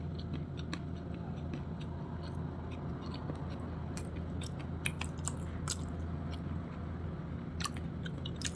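Tamarind rice being chewed and eaten close to the mic, soft repeated wet crunches and mouth sounds over a steady low background hum.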